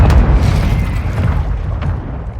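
A grenade goes off in a first-person shooter game, a single heavy low boom at the start rolling off into a rumbling decay over a couple of seconds.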